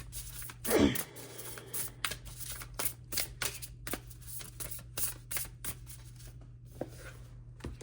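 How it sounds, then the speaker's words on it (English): Cards being shuffled up close, a burst of riffling followed by a run of quick soft slaps and flicks, with a faint steady hum beneath. "now I can shuffle these cards."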